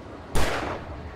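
A single gunshot in the video game Alan Wake: one sharp, loud report with a decaying rumble trailing off over about a second, heard alone.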